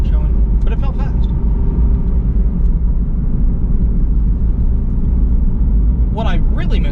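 An Aston Martin Vantage 4.7 V8 driven fast, its engine a loud, steady roar and rumble throughout, with brief voices near the start and end.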